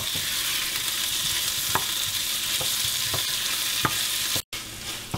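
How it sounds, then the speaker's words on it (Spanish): Tomatoes and fish stew sizzle steadily in a pot for a Peruvian sudado de pescado, with faint bubbling pops and a few light stirring taps, then a brief cut. "Agregar los tomates. Y voy a dejar cocinar por unos, ¿qué diría yo? Unos 10 minutos."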